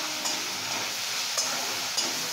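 Onions frying in a pan with ginger, garlic and green chilli paste being stirred in, a steady soft sizzle with faint stirring scrapes and a few light clinks, no talking.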